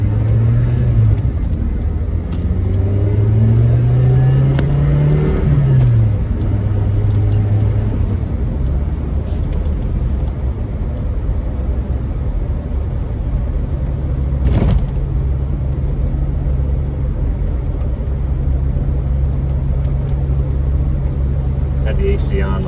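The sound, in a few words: 1990 Saab 900 Turbo SE driving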